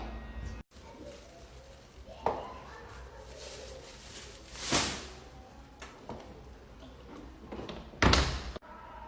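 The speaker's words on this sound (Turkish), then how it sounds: "Kapıyı suratımıza kapadı." A door is slammed shut in a family apartment building, giving a sharp, loud bang near the end that stands out among a few softer thumps and knocks over quiet room noise.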